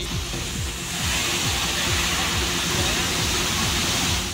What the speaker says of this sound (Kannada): ಹುಲಿಕಲ್ ಘಾಟ್ ಬಳಿ ಇರುವಂತಹ ಬಾಳೆಬರೆ ಜಲಪಾತ ಮೈದುಂಬಿ ಹರಿತಾ